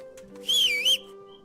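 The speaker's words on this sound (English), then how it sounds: "You look one direction, whistle, look back, bam, right there." In the Kingdom Come Deliverance video game, a single short whistle calls a horse: a clear, wavering tone lasting about half a second over a quiet, faintly humming game ambience.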